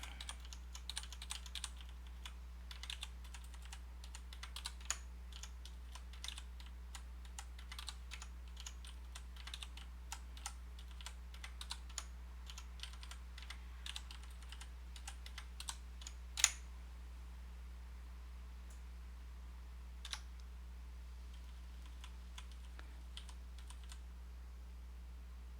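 Quiet, close keyboard typing clatters in irregular bursts of keystrokes while someone live codes JavaScript, over a low steady electrical hum.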